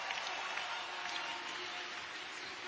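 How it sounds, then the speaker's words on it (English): Spectators at a men's bouldering semi-final in Bern cheer a climber on, a steady broad wash of crowd noise and applause that holds at an even level throughout with no single voice standing out. "The crowd's cheering him on."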